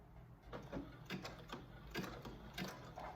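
A sewing machine runs a straight seam down the side of a paper bag skirt, its faint mechanical clatter pulsing in short regular bursts, with no voices.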